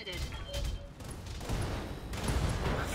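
Mech weapons in the BattleTech game fire at an enemy torso in a rolling volley of booms and blasts that builds toward the end. A voice talks over the firing.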